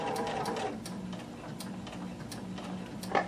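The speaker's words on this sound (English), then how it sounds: "And start sewing very slowly." A sewing machine stitches a skirt seam slowly, giving a soft, steady ticking of needle strokes at an even rhythm, close and fairly quiet.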